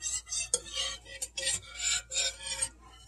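A utensil stirring and whisking flour and milk into country gravy in a pan, repeated scraping strokes in an uneven rhythm, close and clear with no talk.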